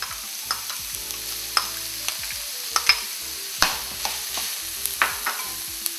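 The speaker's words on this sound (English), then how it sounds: "Fry the onions until it becomes a little brown. After it becomes brown, add the green chili." Onions and green chili frying in a pan for vegetable samosas, a steady close sizzle broken by repeated scraping stirs and soft clicks of a utensil against the pan, with no voices.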